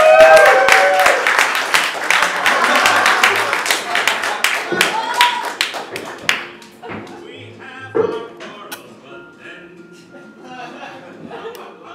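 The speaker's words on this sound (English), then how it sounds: "Guys, give a big round of applause." Audience applause greets the guest introduced at Lucille Ball's roast, loud and dense at first with clapping, whoops and voices mixed in, then thinning out and fading as a speaker begins talking over the last of it.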